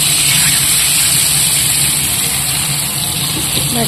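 Water gushes steadily into a cooking pot of salted food on a home stove, a loud, continuous pour that lasts the full few seconds with no voices.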